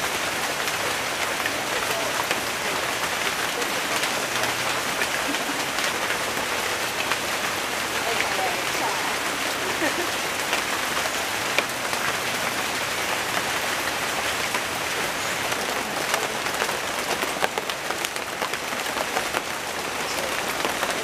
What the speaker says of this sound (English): today it like actually has been raining all day